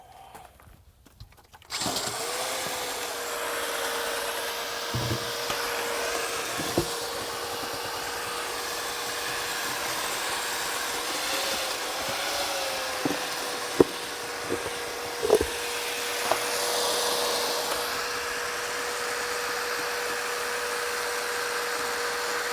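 A mixer drill whirs steadily as it churns concrete microtopping for an overlay skim coat, a sustained close motor drone with a few brief knocks and bumps partway through.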